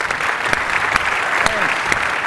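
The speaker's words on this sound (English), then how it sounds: "Let's give a big round of applause" An audience at a sports business conference claps steadily in a continuous wash of applause, with a voice speaking briefly over it.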